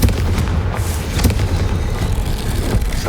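A fiery blasting spell goes off in Hogwarts Legacy, a loud, dense rumble with sharp bursts of crackle and boom layered over continuous low roar, no voices.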